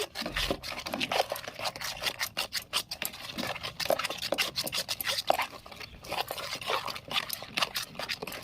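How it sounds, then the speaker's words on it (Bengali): Cake batter with cashews, raisins and morabba is mixed briskly in a bowl, giving quick, rhythmic scraping and squelching strokes that repeat steadily, up close. "কাজু বাদাম দিয়ে দিচ্ছি কিশমিশ দিয়ে দিচ্ছি মোরব্বা দিয়ে দিচ্ছি ভালো করে মিশিয়ে নিচ্ছি"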